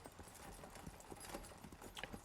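A tied-up horse near a bridge, hooves clip-clopping faintly in a few scattered, uneven steps over low background noise.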